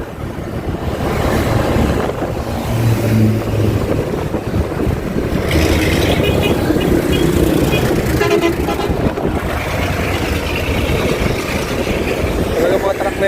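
Trucks driving past on a road, their engines revving loudly and continuously, with a horn tooting and passing traffic noise throughout.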